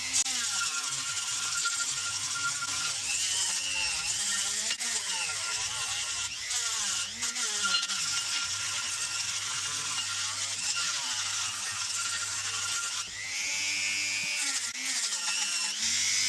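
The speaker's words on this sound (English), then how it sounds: "I could just be grinding away all of the aluminium, leaving nothing." Continuous high-pitched grinding of a rotary tool working aluminium cylinder head ports on a small-block Chevy head, steady and close throughout with slight pitch wavers as pressure changes.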